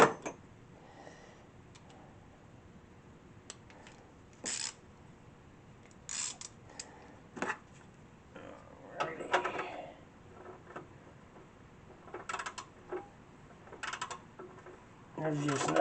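Metallic clicks and clinks of a wrench tightening a bolt from under a car while chasing an oil leak, scattered short taps in cramped space over a faint background hiss, with a bit of quiet talk.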